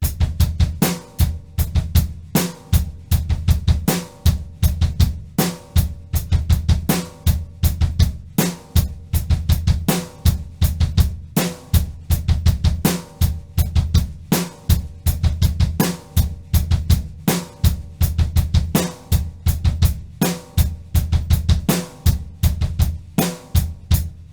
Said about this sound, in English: We're gonna play the first 4 16th notes with the bass drum.